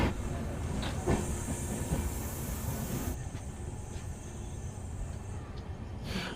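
The Ramnagar Dehradun Express rolling slowly into the platform at Dehradun, a steady hissing rumble with faint wheel clicks and a few knocks, continuous and fairly near throughout.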